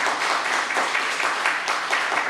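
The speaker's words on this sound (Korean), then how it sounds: "잠깐 일어나시면 저희가 박수로 환영하겠습니다." A church congregation applauds to welcome visiting retired missionary pastors, a steady wash of many hands clapping indoors, moderately loud and continuous, with no talking over it.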